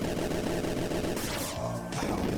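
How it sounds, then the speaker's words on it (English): Gunfire-like bangs in a Five Nights at Freddy's related video, dense loud rapid reports filling the clip with a brief lull and a few tonal bursts partway through, no speech. "I thought they just sound like gunshots."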